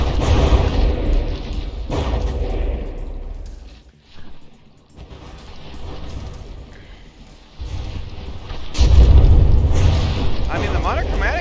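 Battleship rear guns fire a volley in the naval combat game From the Depths, heavy booming blasts rolling out in bursts at the start and again near the end, with a voice talking over the battle throughout.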